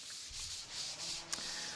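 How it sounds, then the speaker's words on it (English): Light sanding of a gesso board before its first coat, heard as soft, broad rubbing strokes in a few passes, close and steady, with one brief sharp scrape near the end. "So give it a light sanding and then you're ready to apply the first coat of gesso."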